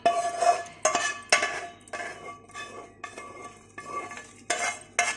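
Cooled tempering being poured into mango pickle and mixed, heard as repeated close clinks and scrapes of a spoon against a pot or bowl in an irregular rhythm, with no talk.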